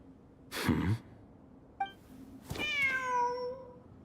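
A cat meows in Genshin Impact during ruins exploration, with a short rising-falling meow after a soft breathy sound and a faint chirp, heard alone and fairly quiet.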